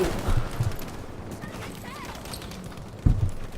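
Magnum pistol shots in Battlefield 5, a few sharp reports in a quick pair and then a lone louder one after a pause, set against steady battlefield background noise.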